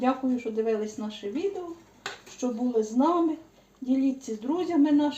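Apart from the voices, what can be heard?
No everyday noises stand out.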